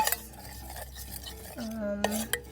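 A homemade hair treatment of olive oil, honey and tea tree oil is stirred in a container, with soft scraping and clinking of the utensil against the side across the short clip and no talk.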